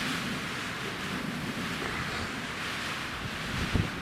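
Strong wind buffeting the microphone on an exposed ridge, a steady loud broadband roar with a brief gust thump near the end, no voices.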